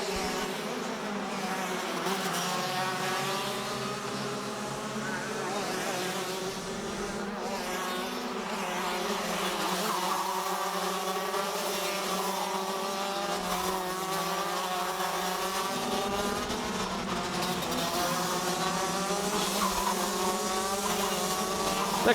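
Rotax DD2 racing karts at a SARMC race meeting, a pack of high-pitched two-stroke engines buzzing and whining continuously around the track, overlapping pitches rising and falling, loud and steady with no talk.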